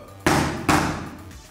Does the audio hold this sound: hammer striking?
yes